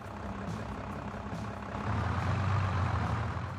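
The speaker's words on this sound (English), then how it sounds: "Compared with modern vehicles that are featured in the game, the sound within the cabin of a vintage vehicle is less filtered and brighter." A vintage vehicle engine in a farming video game, heard from inside the cabin, runs as a steady, bright, lightly filtered drone that swells slightly louder midway, with no talk over it.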